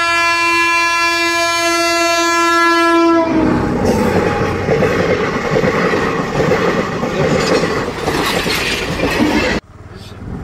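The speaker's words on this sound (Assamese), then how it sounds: "প্ৰায় আধা ঘণ্টা পাছত ট্ৰেইনখন আহিছে" A passenger train pulls in with a long, loud blaring horn, then the rumble and clatter of wagons rolling past close by, continuing steadily until it cuts off abruptly near the end.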